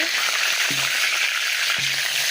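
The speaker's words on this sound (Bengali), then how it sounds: "মাছ ভাজা বসিয়ে দিয়েছি বললাম না একসাথে দিয়ে দিয়েছি দেখো পাঁচ পিস মাছ বেশি করে তেল দিয়েছি" Five pieces of fish fry in plenty of oil, giving a steady, loud sizzling hiss with a couple of soft low knocks from the pan.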